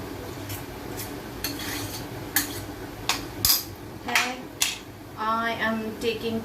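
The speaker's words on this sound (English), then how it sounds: "Give it a nice stir." Chilies and garlic stirred in a pan over a slow flame, a spoon scraping and knocking against the metal in uneven strokes with a faint sizzle underneath, close and fairly quiet.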